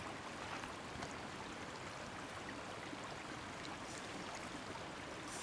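Water splashing from someone swimming at night in a Bollywood film scene, a steady, dense rushing wash with no speech over it.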